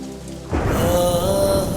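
Rain falls in a romantic Hindi television drama scene, a dense steady hiss of downpour rising suddenly after a soft musical passage and continuing with a sustained tone on top.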